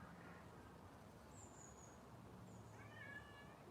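House cats meow softly in the distance against steady background noise, one short call and then a second, higher call near the end, faint and not masked by any talk.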